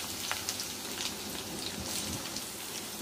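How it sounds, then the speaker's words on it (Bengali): Chopped onions frying in hot soybean oil, a steady dense crackling sizzle with scattered pops, close and continuous with no voices. "পেঁয়াজ কুচিগুলো হালকা বাদামি করে ভেজে নিচ্ছি"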